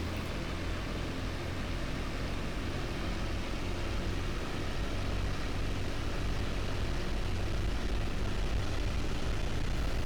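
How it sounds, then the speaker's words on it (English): Fw 190 D-9 propeller engine roaring at high power during a takeoff run in the DCS flight simulator, a dense steady drone that holds at even loudness throughout. "gradually increase your engine RPM to about 2500"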